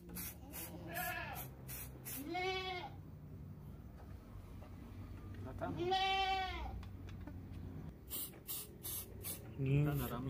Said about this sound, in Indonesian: semprot lagi sampai bagian-bagian kulit yang bulunya hilang ini tersemprot secara merata.